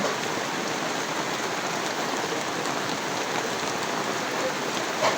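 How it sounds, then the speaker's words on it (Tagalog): Heavy rain pours down in a dense, steady hiss, loud and unbroken throughout with no voices. "Maputi po yung ulan."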